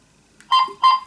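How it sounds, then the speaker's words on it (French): Two short electronic beeps from a toy voice recorder in quick succession, the second following about a third of a second after the first, clear and close. "les 2 bips qui signifient donc que la voix est bien enregistrée"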